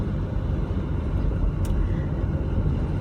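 A car cruising on the freeway fills the space with a steady, loud low road rumble and engine drone, continuous and close from inside the vehicle, with no talking.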